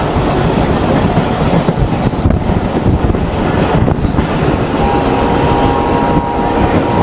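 Mongla Commuter train with an unlocked 3300-class locomotive hauling carriages at speed across wetland country near the Rupsha railway bridge, a loud steady rumble with rhythmic wheel clatter and wind buffeting, a faint tonal whine joining near the end.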